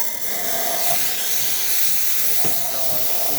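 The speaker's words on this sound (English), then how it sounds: "Check the steam." A steady, loud steam hiss from the steam wand of a freshly serviced Quick Mill Alex Duetto espresso machine, continuous and close, with faint clanks underneath.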